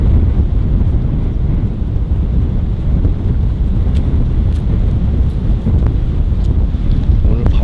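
Strong wind roars on a snowy winter mountain in a blizzard, buffeting the microphone with heavy, continuous low rumbling and gusts, loud and close throughout.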